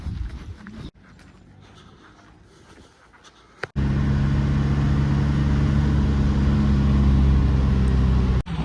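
A car driving through the streets of Dahab, Egypt: a quieter stretch, then a loud, steady engine and road rumble close by after a sharp transition.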